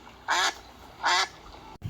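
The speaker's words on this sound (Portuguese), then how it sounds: "O pato faz." Two loud, nasal duck quacks sound close by, evenly spaced about a second apart, against a quiet background.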